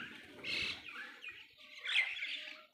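Birds waiting to be fed chirp and squabble noisily nearby, overlapping high calls in short bursts over faint background rustle.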